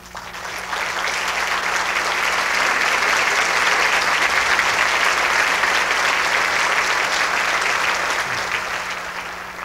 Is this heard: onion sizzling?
no